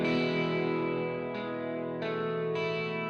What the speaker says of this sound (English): So that was the ambient guitar part.